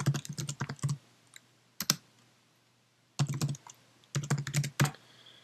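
Quick bursts of keystrokes on a computer keyboard while a calendar event is typed in iCal, clustered clacks separated by short pauses, close and clear with no voices.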